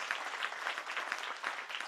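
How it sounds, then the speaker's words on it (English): Steady, dense clapping from a large audience at a graduation ceremony, sustained and fairly loud throughout with no pauses. "Let us clap for them again"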